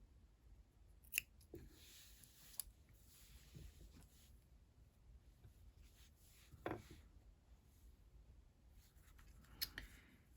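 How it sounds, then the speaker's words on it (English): Scissors snip through crochet yarn in a few quiet, isolated cuts spaced across a hushed, close-up background. "Cut the yarn."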